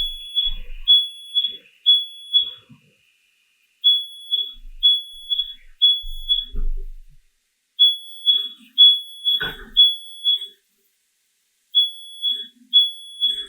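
A kitchen smoke alarm shrills in bursts of three piercing beeps separated by short pauses, loud and close, with a few faint bumps and clatters between the groups and nobody talking.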